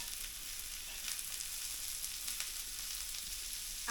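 Cut wild monsoon vegetables frying and sizzling steadily in a pan while being stirred, a constant close hiss with faint scraping throughout.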